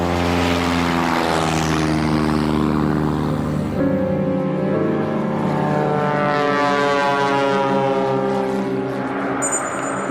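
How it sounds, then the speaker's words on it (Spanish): A fast, modern Piper Cherokee propeller airplane flies past with a loud, steady, buzzing engine drone whose pitch shifts partway through, continuous and with no talking. "Kramer compró su primer aeroplano, un rápido y moderno Piper Cherokee"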